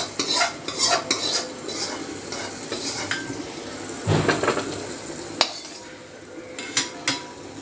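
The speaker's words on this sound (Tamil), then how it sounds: "நல்லா பொரிஞ்சு வச்சு நம்ம வந்து கடைஞ்ச கீரையில் ஊற்றலாம்." Hot tempering sizzles as it is poured into mashed amaranth greens, followed by the scrape and clink of a spoon stirring through the pot, close and moderately loud.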